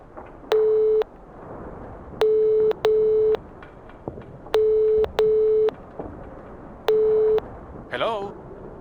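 Telephone ringing tone in the video game Nibiru, heard from a reception desk phone: a loud, clean electronic tone in paired and single half-second bursts with short gaps, repeating several times, ending in a brief crackle.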